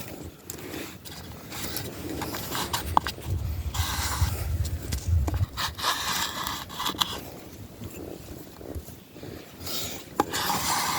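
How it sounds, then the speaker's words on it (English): A wooden scraper rasps along a yucca plant stalk, stripping its fibrous outer layer in a steady run of rough, close scraping strokes with brief pauses between passes. "Just keep scraping."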